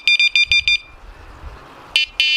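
A Sonik SKX carp fishing bite alarm with a blue buzzer gives five quick high electronic beeps, pauses, then two more longer beeps, loud and close with no voices.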